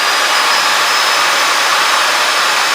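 A Rover P6 LT77 gearbox, filled with oil and turned over through a shaft adapter, gives a loud, steady whirring rush that holds at the same level from start to finish, with no voices.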